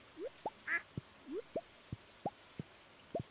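Farm ducks quacking in a string of short separate calls, about a dozen clipped quacks at an uneven pace, fairly close, with no voices.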